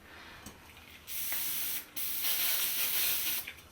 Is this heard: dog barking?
no